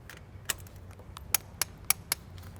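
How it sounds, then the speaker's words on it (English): A torque wrench tightening turbo bolts on a 2009–2017 Audi MLB-platform car gives about five sharp metallic clicks spaced irregularly over a quiet background. "I like to do it one more time just to make sure that they're all torqued"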